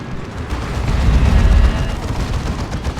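Dawn of War 2 battle erupts in heavy, booming weapon fire consistent with lascannon shots, rumbling blasts and crackling impacts densely layered and loud, swelling in the middle then continuing steadily.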